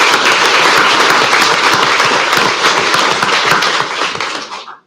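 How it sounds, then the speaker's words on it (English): Audience at an El Centro city council meeting claps loudly in a thick, crackling burst of many hands that holds steady for several seconds, then fades and stops. "we'll go ahead and applaud Mr. Sasueta"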